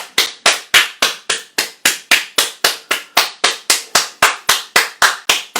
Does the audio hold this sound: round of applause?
yes